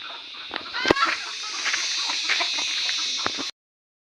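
Free-range chickens gathered on a poultry farm cluck and murmur steadily as a close flock over a constant hum of background noise, which cuts off abruptly near the end.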